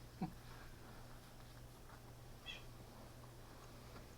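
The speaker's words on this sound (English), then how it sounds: "These cats really want in." Cats meowing to be let in, a short cry followed a couple of seconds later by a fainter second meow, both quiet against a low steady hum.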